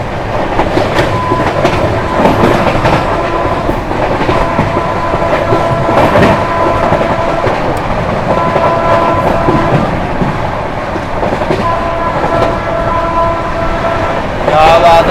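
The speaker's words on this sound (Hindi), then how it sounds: "गाड़ी अपनी फ्लाइट 130 की रफ्तार में भाग रही है अपनी वेस्ट बंगाल संपर्क क्रांति" West Bengal Sampark Kranti express racing at about 130 km/h, a loud continuous rumble with rhythmic clickety-clack of wheels over rail joints, close by and unbroken throughout.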